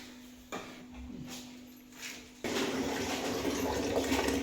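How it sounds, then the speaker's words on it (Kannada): Water is filled at home, starting as a faint trickle and then turning into a sudden, louder steady rush that continues to the end, close by, with no talking. "ಮನೆಯವ್ರು ನೀರು ತುಂಬಲತ್ತಾರ ನೋಡ್ರಿ."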